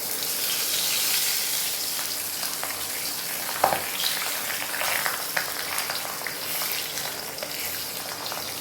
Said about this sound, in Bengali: আমি একটু লাল করে দুটোকে ভেজে তুলে নেব